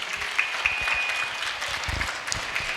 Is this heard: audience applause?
yes